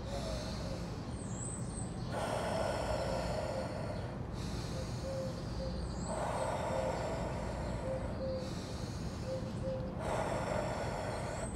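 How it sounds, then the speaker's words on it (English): Slow, deep breathing during a Wim Hof-style breathing session, drawing in through the nose and releasing through the mouth, with long steady breaths repeating about every two seconds in a close, quiet room. "you breathe in through your nose, out through your mouth"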